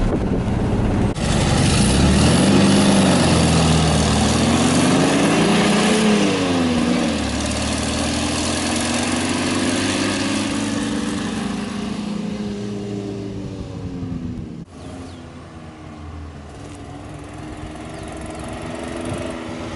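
A 1970 Volkswagen Beetle with a variable venturi carburetor runs at a steady air-cooled engine rumble, close and loud, with wavering pitch as the revs rise and fall before a brief dip and recovery.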